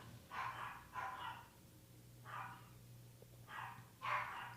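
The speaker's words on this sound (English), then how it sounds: "I'm just going to wait till the dog stops." A dog barks in a series of loud, close bursts, two quick barks, a pause, then more barks, over a steady low indoor hum.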